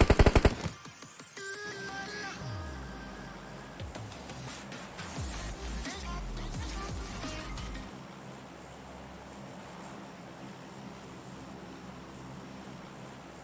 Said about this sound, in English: the gunfire is nuts. Gunfire is like louder than me.